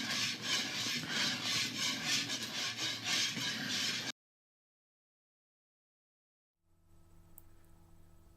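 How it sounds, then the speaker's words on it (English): Rapid whisking of a pecan and coconut frosting mixture in a bowl, a steady scraping rasp for about four seconds, then silence, followed by faint low room noise. "this mixture here that I'm constantly whisking is what you use for the frosting"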